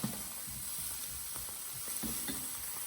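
Tuna steaks sizzle steadily in a frying pan for a salad Niçoise, a continuous close crackling hiss broken by soft stirring scrapes and small pops, with no voices.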